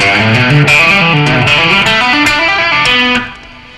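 Overdriven electric guitar runs a rock lick full of hammer-ons and pull-offs, stopping on a low B, with notes flowing in quick legato groups before the last note rings and fades out, close and solo.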